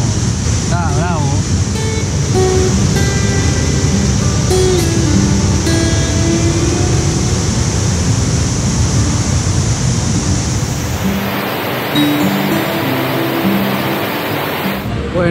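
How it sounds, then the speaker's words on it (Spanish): Loud, continuous roar of rushing, falling water at Iguazu Falls, close and steady throughout with no breaks. "El agua parece que cae en cámara lenta"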